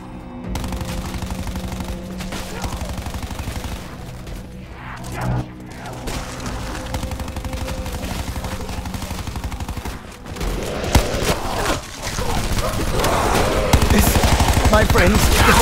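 Rapid gunfire in the video game Dead of the Night, shooting at heads, with sustained loud bursts of rattling shots over game music and sound effects, swelling denser and louder toward the end.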